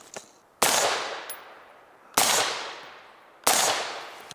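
Three loud 5.56 rifle shots firing 55 grain ball ammunition from 10 yards at a ballistic plate, each a sharp blast with a ringing tail, about a second and a half apart.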